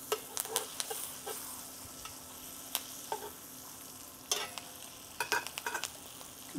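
Steaks searing in a hot skillet give a steady, moderate sizzle, broken by sharp pops and spatters scattered throughout, heard alone without talking.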